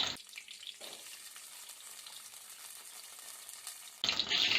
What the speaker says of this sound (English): We're going to fry this till the rawness of the ginger, garlic and the onions are gone.